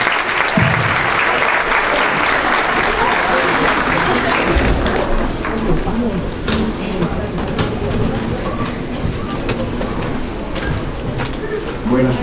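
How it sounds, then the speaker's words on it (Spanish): An audience in a university auditorium applauds loudly for a judge introduced as a speaker, dense sustained clapping that starts strong and continues for several seconds, with some voices mixed in. "espero que lo recibamos con un fuerte aplauso"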